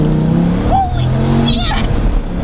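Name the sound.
Dodge Viper accelerating hard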